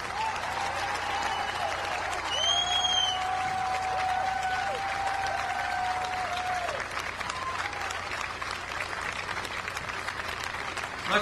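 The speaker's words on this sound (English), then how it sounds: "They deserve our applause." Sustained audience applause at a Ground Zero memorial speech in New York, a steady wash of clapping from a sizeable outdoor crowd, with a faint tone and a brief whistle over it.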